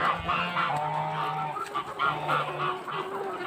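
Hens in a coop make steady, close clucking and fowl calls during egg laying, with a few louder honk-like squawks repeating through the stretch; no one speaks.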